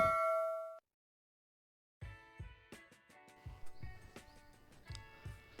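A bright electronic bell-icon notification ding rings once alone, then after a brief silence a rapid run of metallic chimes and clangs plays in a quick rhythmic pattern.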